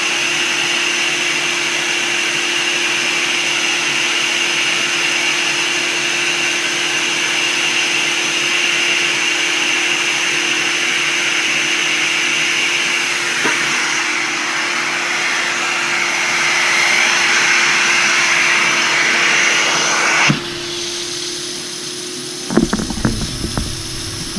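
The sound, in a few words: carpet extraction machine rinsing urine out of carpet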